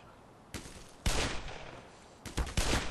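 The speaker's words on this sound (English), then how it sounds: "those two shots were actually pretty mad" Gunfire in the video game Black Mesa: a few sharp shots, then a heavier blast and a quick cluster of rapid shots near the end, loud over a quiet room-tone background.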